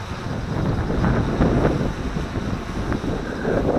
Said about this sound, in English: The wind is blowing. I don't know if you can hear it.